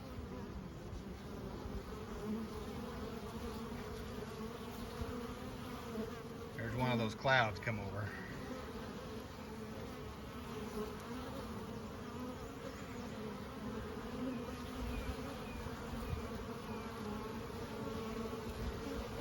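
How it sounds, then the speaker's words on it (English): Honey bees swarm around a Langstroth hive in a dense, steady buzz, close and continuous, with one bee whining briefly past. Someone speaks once softly in the middle. "Give you a little closer look at the bees coming in."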